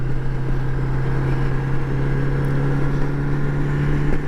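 Steady, smooth engine drone from a 1980 Honda Goldwing motorcycle cruising in top gear, with a constant low hum and wind rush running unbroken throughout.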